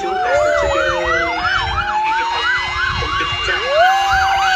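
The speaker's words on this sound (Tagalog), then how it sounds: "Fire truck." A fire truck siren wails in a fast, rising-and-falling yelp over the rumble of road traffic. It sounds loud and steady for several seconds, with a second siren tone sweeping more slowly behind it.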